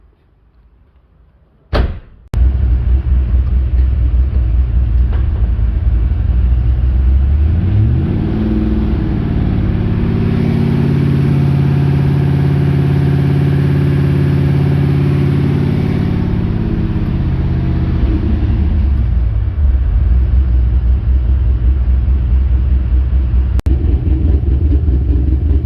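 A Nissan Silvia S14 front end with a newly fitted manual gearbox, on a hoist in a workshop. A door slams, the engine cranks and starts, then runs loud and close, its pitch climbing and falling as it runs up through the gears before settling to idle.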